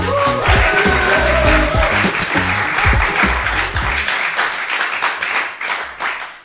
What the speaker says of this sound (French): Des applaudissements pour Ébullition